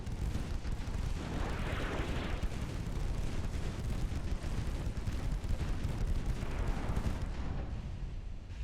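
In Ultimate Admiral Dreadnoughts, 1.5 inch naval guns fire in a rapid, dense stream, like a machine gun, merging into a continuous rumbling roar with booming bursts, steady and heavy throughout.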